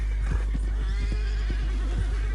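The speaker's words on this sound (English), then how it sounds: "Tennessee Walker." In Red Dead Redemption 2, a Tennessee Walker horse gives a faint neigh amid rhythmic clip-clop hoofbeats that thud at a steady pace against a constant low game background.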